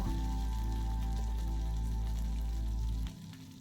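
A tempering of curry leaves sizzles in hot oil in a pan, a dense steady frying hiss over a low hum that cuts off abruptly near the end.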